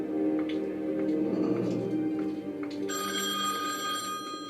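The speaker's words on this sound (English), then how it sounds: "And the phone rings." An old telephone bell in The Wolf Among Us rings out partway through, bright and steady, over a low murmur of background game ambience.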